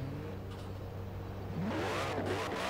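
A 2002 Koenigsegg CC8S, fully upgraded and tuned, revs in the racing game Forza Horizon 4, its steady engine drone rising in pitch and loudness as it accelerates.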